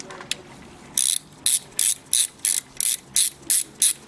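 A hand ratchet undoes a coil pack bolt on a Toyota Avensis, close to the listener. It gives about eight crisp, evenly spaced clicking strokes in a steady back-and-forth rhythm, with no speech over it.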